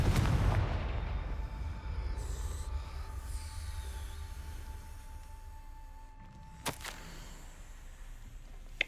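The Confringo explosion spell in a Harry Potter video game sets off a heavy, deep boom at the start, and its rumble slowly fades over several seconds, ending in a sharp click.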